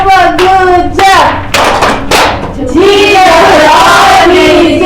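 A primary school class does a rhythmic clapping chant, loud claps in short bursts mixed with children's voices chanting together, close and energetic.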